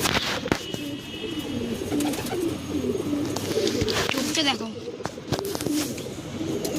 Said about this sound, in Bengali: এটা হচ্ছে অরিজিনাল আন্ধ্রা পায়রা।